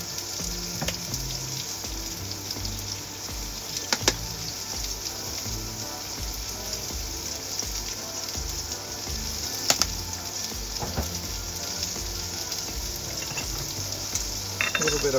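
Onions and green beans frying in a pan with kosher salt, a soft steady sizzle running throughout under light kitchen clatter, with a few sharp clinks of utensils.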